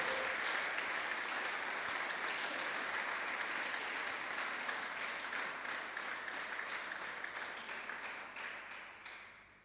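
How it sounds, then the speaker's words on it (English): Sustained applause from an audience at the final of the PSA BDO Namibian Open 2025 squash tournament, dense steady clapping that holds throughout and slowly tapers off near the end. "Can we give a round of applause to every single player?"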